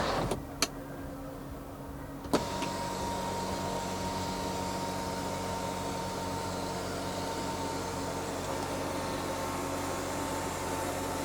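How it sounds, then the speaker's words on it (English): A motor in a 2020 BMW X5 xDrive45e M Sport opens the panoramic sunroof to its vent position, giving a steady, close electric whir after a couple of soft clicks. The whir holds evenly inside the quiet cabin. "You can even open up the sunroof as a vent."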